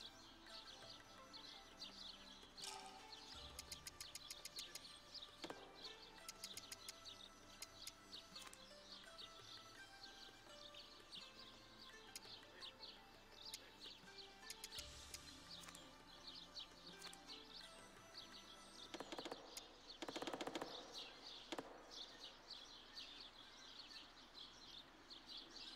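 Birds chirp and tweet through an outdoor scene in the video game Shenmue III, with steady twittering calls high over a busy ambient game soundscape that includes occasional hoof-like clopping and thumps.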